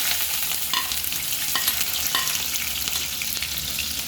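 Chopped onions sizzle in hot oil in a pan for egg bhurji, a steady, close and fairly loud frying hiss with a few faint stirring clinks.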